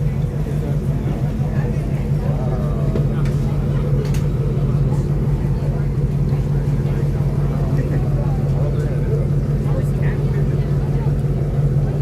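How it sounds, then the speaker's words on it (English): Low, steady chugging drone of boat engines, sounding like diesels, on a raft crossing at Walt Disney World's Magic Kingdom, continuous and close, with faint crowd murmur and scattered voices over it. "Engines on these boats really chug."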